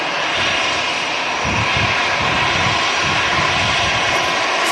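An EasyJet jet airliner passes at Manchester Airport, its engines a loud, steady roar that fills the whole stretch with a broad rumbling wash and no let-up.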